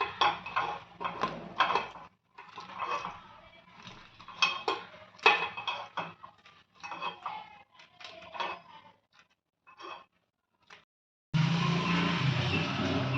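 Crispy paddu made with colocasia are lifted out of a paddu pan with a metal utensil: a close series of irregular scrapes, taps and clinks with short pauses, ending in a louder steady hiss.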